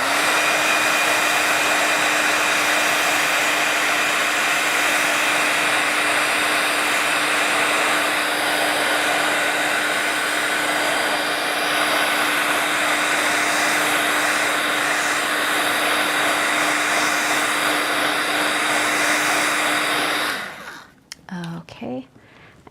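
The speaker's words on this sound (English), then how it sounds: "I'm going to hit with my heat tool just to be safe." A craft heat tool blows hot air over distress spray stains on card, a loud, steady, close whooshing hum that runs continuously and then clicks off near the end, followed by brief handling noise.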